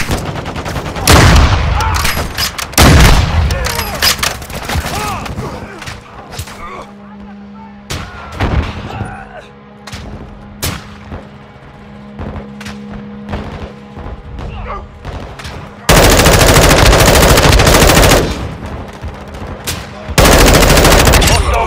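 Heavy gunfire and explosions in Call of Duty: Modern Warfare 2 on PS5, with dense automatic bursts, booming impacts and a long sustained roar of fire, loud and close throughout.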